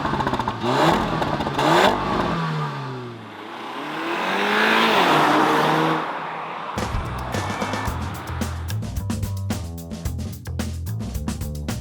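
Porsche Macan entry version with a 4-cylinder 252 hp engine, accelerating hard with rising revs and gear-change dips, then a rough, clattering drone close by.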